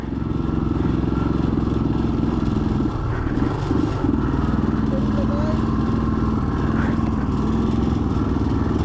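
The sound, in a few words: motorcycle engine struggling while climbing uphill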